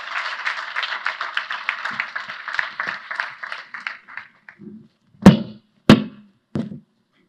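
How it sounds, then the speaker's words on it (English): Applause from a conference audience for a discussion panel taking the stage, a steady dense wash of clapping for about four seconds that thins out and ends in a few scattered, louder individual claps. "Can I have a loud round of applause for them"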